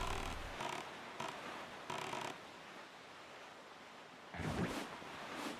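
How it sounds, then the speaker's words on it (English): Ocean waves in The Legend of Zelda: The Wind Waker HD: a soft, low wash of sea and wind, with short surging swells rising at intervals and one stronger rush near the end. "Watch the waves very carefully."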